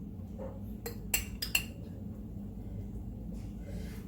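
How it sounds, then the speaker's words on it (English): Metal spoon clinks sharply against a pot three or four times in quick succession as spoonfuls are added for Jamaican ackee and saltfish, over a low background rumble. "So I'm gonna add 3 spoons of this in the pot."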